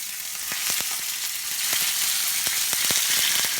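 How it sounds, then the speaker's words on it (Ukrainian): Pork ribs sizzle loudly in a hot pan, a steady crackling hiss broken by sharp pops of spattering fat. "І зараз ми їх обжарюємо на сковорідки."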